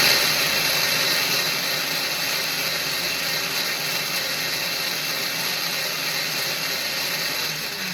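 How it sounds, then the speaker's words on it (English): A blender runs continuously, whipping a frothy Black Yukon Sucker Punch cocktail, giving a steady, fairly loud motor whir with a churning rush throughout and no speech. "I'm going to blend that just a little bit more. I want it as frothy as possible."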